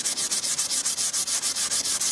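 Super glue and dust filler on a Winchester Model 100 rifle are sanded by hand in quick, even back-and-forth strokes, roughly a dozen rhythmic raspy rubs up close with no voices.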